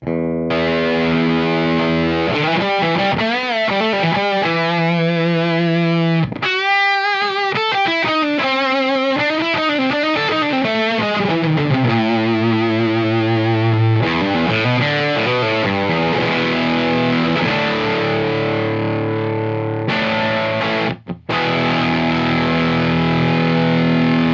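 Raspy, heavily distorted electric guitar through a Mark I Tonebender fuzz pedal, mid-focused, playing sustained notes and bends that swell and growl continuously, loud and alone.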